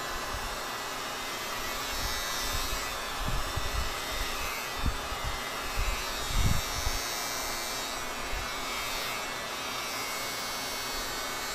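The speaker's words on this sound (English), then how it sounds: "I'm shaving my head on the live stream." Electric razor shaving a person's head, a steady low buzz running for about twelve seconds with slight swells as it passes over the scalp, close but fairly quiet and without speech.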